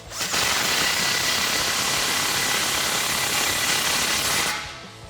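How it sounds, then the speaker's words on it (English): An impact gun with a 17mm socket tightens a clamp on a stainless steel single exhaust system for a 2016-2022 Toyota Tacoma, giving one loud, sustained rattling buzz of about four seconds that stops abruptly, with no talking. "I'll take a 17mm socket on an impact gun to tighten this clamp down"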